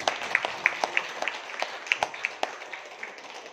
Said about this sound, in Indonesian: Aplaus buat Bapak Ibu semua.